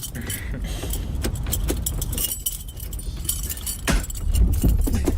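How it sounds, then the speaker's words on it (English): Keys jangle and clink repeatedly at close range over a low hum of a car, with sharp metallic jingles throughout. "He's literally fiddling with the keys."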